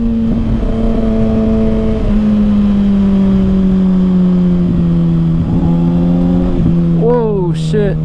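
A 2021 Kawasaki Ninja ZX6R with an M4 Street Slayer exhaust drones loudly and steadily at close range while riding cold twisty roads, its pitch easing slightly before a brief rev and quick gear-change blips near the end.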